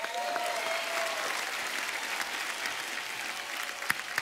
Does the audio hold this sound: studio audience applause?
yes